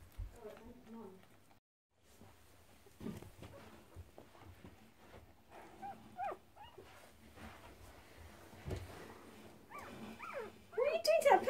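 Faint high whimpers and squeaky cries of tiny puppies, intermittent and growing louder at the end, with a person talking quietly in between.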